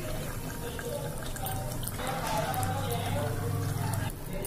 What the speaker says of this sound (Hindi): तो मैं अब पानी इसमें डालने जा रही हूँ।